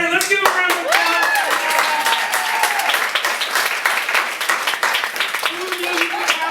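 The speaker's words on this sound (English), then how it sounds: "Let's give a round of applause." A theater audience claps in a sustained round of applause at an event, with voices and whoops mixed in above the clapping.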